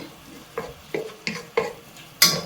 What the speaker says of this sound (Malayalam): അത് നമുക്കിതിലേക്ക് ചേർത്ത് വഴറ്റിയെടുക്കാം